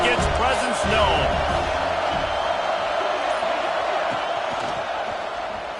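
A packed stadium crowd at a college football game against USC roars and cheers loudly, a dense wash of noise that slowly fades, with a commentator's voice heard over it.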